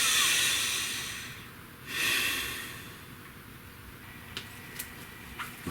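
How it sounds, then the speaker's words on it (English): A slow, deep inhale and exhale, close and quiet, followed by a second long breath, with a few faint ticks in the background. "Nice deep breath."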